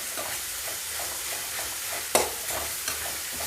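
Ginger garlic paste fries in a pan for a chickpea chicken curry, giving a quiet, steady sizzle with one sharp utensil knock partway through and a softer one near the end.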